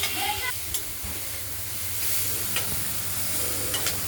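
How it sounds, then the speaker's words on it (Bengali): Thinly sliced bitter gourd and pumpkin stir-fry in a wok with little oil and a mustard-seed and chilli tempering, sizzling steadily with scraping stirs and occasional sharp clinks. "উচ্ছেগুলোকে আমাদের বারে বারেই নেড়ে দিতে হবে, নয়তো কড়াইতে আটকে যাবে"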